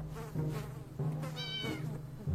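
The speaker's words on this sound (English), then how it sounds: "Oh, we got a cat." A cat meows from inside a trader's bag in a video game, a few short mews over a steady low game hum, with a brief high buzzy tone partway through.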